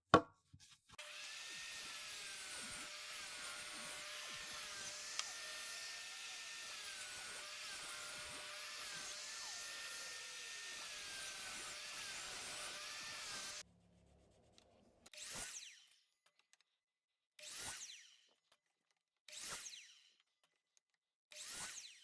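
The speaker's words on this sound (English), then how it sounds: "I'm going to take our leftover piece here and I'm going to cut it into strips at 1 5/8" A power saw rips a leftover cedar board into narrow strips, a sustained buzzing cut of about thirteen seconds, then four short separate passes follow after a near-silent pause.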